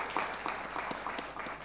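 At a national financial literacy quiz, a studio audience claps in a moderate, fairly quiet round. The individual claps are distinct and spaced rather than a roaring ovation.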